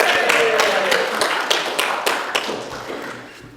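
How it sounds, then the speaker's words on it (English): Applause for Madeline from a small audience, a burst of hand clapping at close range that thins out and fades over a few seconds. "Yeah, give Madeline applause."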